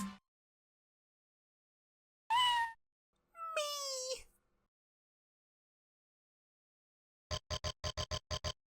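Two separate cat meows play in the video game Ripened Tingle's Balloon Trip of Love, one short and one drawn out with a falling pitch. A quick run of rhythmic game blips follows them against silence.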